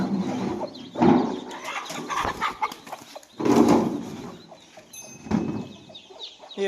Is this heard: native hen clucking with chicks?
yes